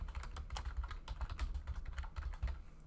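A computer keyboard is typed on in a quick, continuous burst of close key clicks while a folder name is entered, with no talking.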